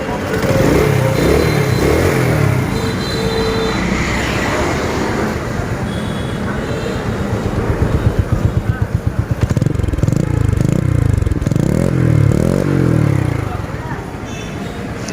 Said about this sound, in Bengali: বাইকের সাউন্ডটা আপনারা শোনেন কেমন সাউন্ডটা